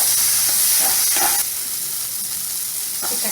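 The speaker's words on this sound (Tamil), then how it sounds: "தக்காளி எண்ணெயில் நல்லா வதங்கிடுச்சு." Tomato frying in hot oil for a mixed sprouts gravy, a loud continuous sizzle with soft scraping of stirring, close and alone.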